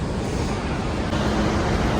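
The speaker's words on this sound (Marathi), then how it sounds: "बापरे या धबधब्याचं सगळं असं पाणी येतंय अंगावरती आत्ता एकदम." Snoqualmie Falls, a waterfall running at heavy flow, gives a dense, steady roar of rushing water. It sounds close, loud and unbroken, with a little wind buffeting the microphone.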